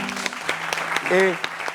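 Studio audience claps briefly in a quick, close burst, with a short vocal sound rising over the clapping near the end.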